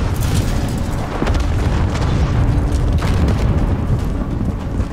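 Dense, loud rumbling blast from an RPG rocket explosion in a 10 vs 10 shooter game, a sustained booming roar filling the whole stretch with brief sharper cracks on top.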